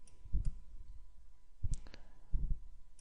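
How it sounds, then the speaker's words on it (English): A computer mouse clicks three separate times while a spreadsheet is opened in Excel 2010, each a short sharp double tick, spaced about a second apart, close and fairly quiet, with no talking. "I'm going to click on File,"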